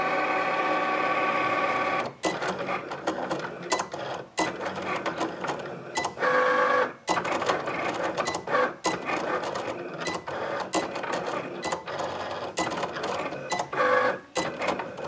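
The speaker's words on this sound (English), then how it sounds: "Click the little Cricut, and it's going to go ahead and cut out his eyes," A Cricut cutting machine cuts black vinyl on a mat. It whirs and buzzes steadily at close range, with short motor whines and small pauses as the blade moves, and there is no speech.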